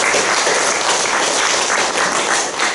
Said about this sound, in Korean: 그동안 수고하신 것에 대해서 박수로 찬양해주십니다